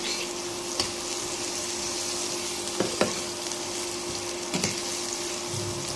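Potatoes fry with whole spices such as cinnamon and cardamom in a pan, giving a steady close sizzle broken by a few sharp clicks of stirring.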